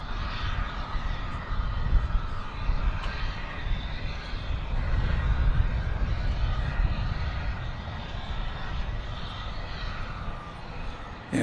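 American Airlines Boeing 737-800 jet at Dallas Fort Worth airport, a steady broadband engine roar at moderate distance that swells slightly in the middle and holds for the whole stretch, with no talk.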